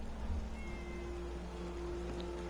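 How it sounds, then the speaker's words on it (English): A cat in a jail cell in a video game gives a faint, brief meow, set against a dense, noisy background with no talk. "Kitty cat."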